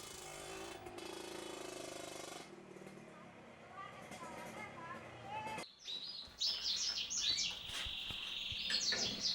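Captive canaries bred for sale at a breeding business in Magelang, Central Java, chirp in quick bright trills through the second half, after an opening stretch of talk and music-like background.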